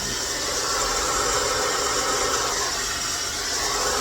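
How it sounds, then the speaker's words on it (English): A hairdryer blows out fluid acrylic paint, a steady, even whooshing hum of airflow that holds constant and unbroken without any voices. "We're going to blow this out with our laser hairdryer while that's going."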